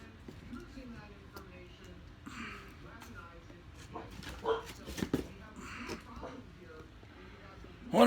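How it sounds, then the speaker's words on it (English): A dog whimpers and yips with a few short barks, faint and somewhat distant indoors, scattered across the stretch. A person talks quietly in the background. "Wonder what she's barking at."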